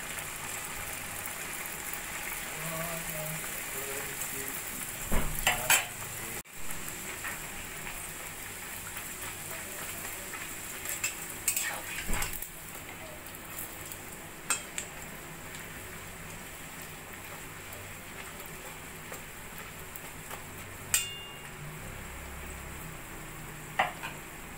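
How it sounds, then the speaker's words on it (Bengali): Chhatu (sattu-filled) kachuri fry in hot oil in a kadai, producing a low, continuous bubbling sizzle with occasional sharp clicks and spatters over a long stretch, without speech. "এবার আমি একে একে কচুরিগুলো ভেজে নেব।"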